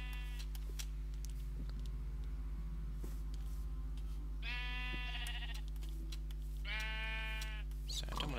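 Sheep bleating in the Minecraft video game, two distinct drawn-out bleats a couple of seconds apart over a low steady hum, faint and alone without talk.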